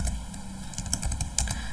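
Typing on a computer keyboard, a quick run of light, irregular key clicks close up, with a couple of sharper taps standing out over a quiet background hum.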